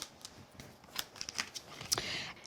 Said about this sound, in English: I've got a piece of chestnut brown card that I'm going to use. I'm going to pop that right inside of the folder